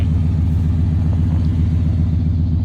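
A Chevrolet Impala engine idles in the snow, a close, loud, steady low rumble with an even pulsing beat throughout.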